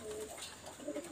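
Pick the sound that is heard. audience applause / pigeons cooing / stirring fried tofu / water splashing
pigeons cooing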